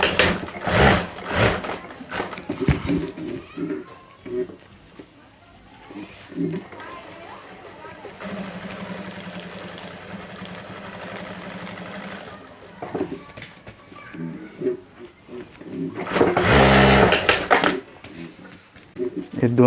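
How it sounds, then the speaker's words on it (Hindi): A sewing machine stitches a handbag in short runs of rapid mechanical chatter, with a longer steady stretch in the middle, broken up by someone talking close by. "और अब हमें यहाँ सिलाई कर देनी है।"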